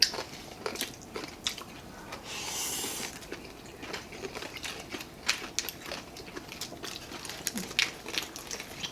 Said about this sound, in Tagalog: malutong siya na malambot kagatin